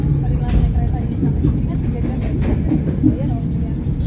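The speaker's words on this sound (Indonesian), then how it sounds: "Kayak ini kereta api Selayu ya guys ya" A Selayu passenger train runs on rails, a continuous loud low rumble and rattle of the carriage heard from inside with steady clatter throughout.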